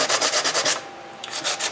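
Close, rhythmic hand sanding without a sanding block on a TRS-80 Model II keyboard part: quick back-and-forth scratchy strokes, a short pause, then more strokes.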